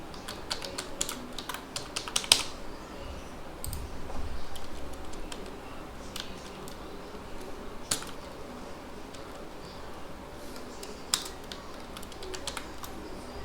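A password is typed on a computer keyboard: irregular bursts of sharp key clicks with pauses between them, close and moderately quiet against a faint room hum.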